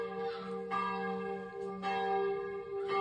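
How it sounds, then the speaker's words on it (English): Small church bells ring at night in Mont Saint-Michel, struck again and again in a repeating pattern, with sustained ringing tones overlapping at moderate distance. "Little church by our hotel started ringing bells at about 10:45, and it's just going and going."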